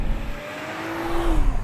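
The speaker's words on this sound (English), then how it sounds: "this engine just picks up beautifully" A BMW 4 Series engine accelerating, a rising drone that climbs steadily in pitch over under two seconds, heard clearly with road and wind noise around it.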